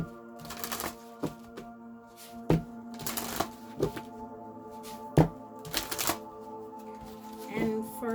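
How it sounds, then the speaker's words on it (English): Wisdom Oracle deck cards being shuffled, a series of crisp riffling bursts and soft slaps at irregular intervals over a steady low background hum, close and clear with no talking. "Let's get a few cards from the Wisdom Oracle deck."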